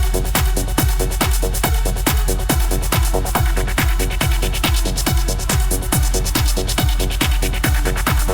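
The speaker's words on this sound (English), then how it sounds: "That makes a kind of cool trancey sound effect." Steady four-on-the-floor dance beat with a rhythmically chopped synth, its tone filtered and sweeping as it plays continuously without talk.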